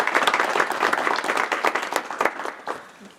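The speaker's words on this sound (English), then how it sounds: "how about a big round of applause for Shireen for all the work that she's done so far" An audience at the IDEA Forum 2015 breaks into a round of applause, dense steady clapping that swells and then gradually tapers off over a few seconds.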